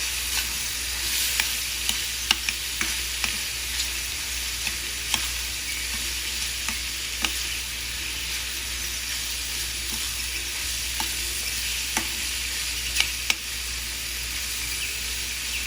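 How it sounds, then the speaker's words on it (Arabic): Food sizzles steadily in a hot pan with black pepper added, while a spoon scrapes and taps through it in scattered clicks, close and constant with no talking. "ونقلب."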